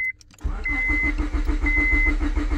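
A Honda Civic engine cranking without catching, a steady rhythmic starter churn that begins abruptly after a short click and runs continuously, close and loud.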